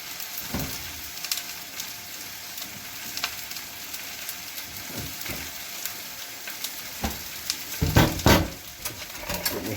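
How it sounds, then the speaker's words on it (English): Mushrooms fry in a pan with a dab of butter, giving a steady close sizzle with scattered clatters and scraping stirs, and a louder burst of crackling near the end. "Might just put a dab of butter in there as well to help them go golden."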